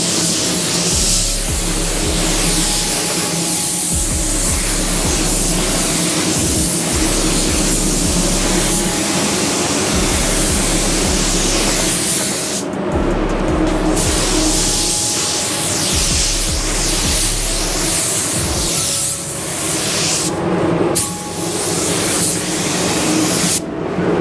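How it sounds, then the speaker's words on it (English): A spray can lays sealer onto a Harbor Freight Black Widow with a loud, close hiss. The spray comes in repeated bursts of a few seconds each, with short pauses between them. "that spray sealer is good as anything"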